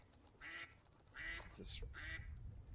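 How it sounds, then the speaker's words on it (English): Faint, distant duck quacks come through in three short bursts over a low background rumble at a lakeside fishing tournament. "Just calling ducks."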